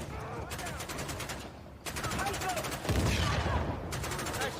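Gunfire bursts in the Syberia Remastered video game, a run of rapid shots with sharp transients recurring through the clip, mixed with game ambience and occasional voices.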